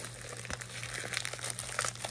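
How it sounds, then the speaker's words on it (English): Cheap, poor-quality scissors snip and crinkle through material in quick, close, faint cuts with a papery rustle, no voices present. "Okay, cut a little more. These scissors are so bootlegged."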